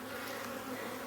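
Honeybees buzz around an opened nuc hive, a close, continuous droning hum with no talk.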